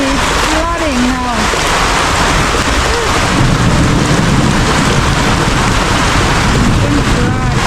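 Heavy, loud rain pours steadily over a countryside house during a flooding storm, a dense continuous roar with low rumbling underneath, while a voice talks briefly over it at the start and again near the end.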